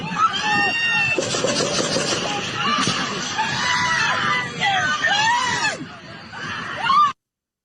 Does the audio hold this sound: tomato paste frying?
no